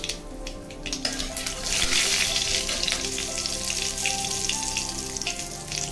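Asafoetida sizzling in hot oil for sambar, a loud, continuous close-up hiss and crackle that swells slightly and holds steady throughout.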